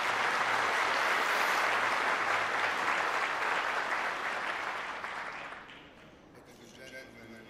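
An audience at the 2017 Sunhak Peace Prize award ceremony claps in a dense, sustained wash of applause that gradually fades out after about five seconds, leaving quieter room sound.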